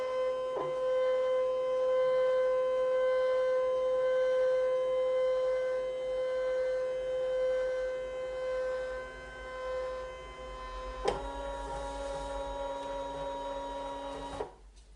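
A Brother ScanNCut cutting machine scans a card with a steady, whirring mechanical hum that shifts pitch partway through, then stops abruptly.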